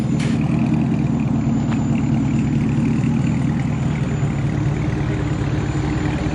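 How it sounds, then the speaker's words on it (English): A Chevrolet Camaro ZL1 idles with a deep, steady rumble through a new AWE Track Edition exhaust, constant and close, with no voices. "Tell me what y'all think about the exhaust before I hop in her"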